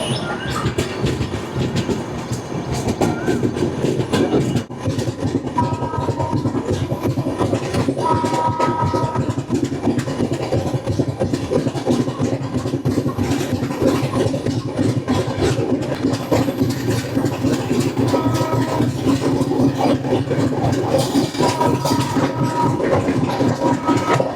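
The Mangala Lakshadweep Express running on rails on a trip from Mumbai toward Kerala, a steady rumble with rhythmic wheel clatter and occasional squealing, heard from inside the train with no talk.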